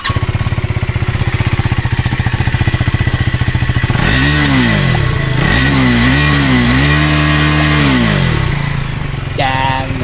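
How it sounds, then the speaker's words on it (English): A KTM motorcycle with an underbelly exhaust idles with a rapid, throbbing pulse, then revs hard in several rising and falling sweeps close by, ending in a sharp high blip near the limiter. "Let's listen to the exhaust mode."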